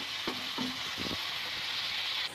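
Garlic and ginger paste frying in a pan: a loud, continuous hiss with a few stirring scrapes near the start, then the sizzle cuts off abruptly near the end.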